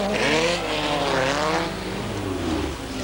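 Race cars roar past one another as leaders lap a slower car on a circuit, a loud continuous engine wail with shifting pitch as the machines sweep by close.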